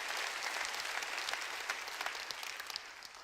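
Congregation applauding during a church sermon, a steady wash of many hands clapping at moderate loudness with no voice over it.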